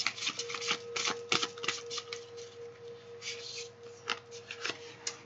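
Tarot cards shuffled and drawn from a deck, a run of soft papery flicks and slides in quick irregular bursts, close and fairly quiet, with a faint steady tone underneath.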